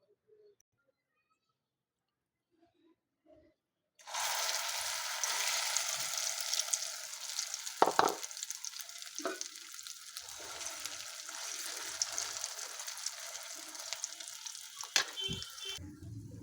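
Shredded cabbage with egg frying in hot oil in a pan, a steady loud sizzle that starts abruptly after a few seconds of quiet and continues with occasional clinks and stirring taps.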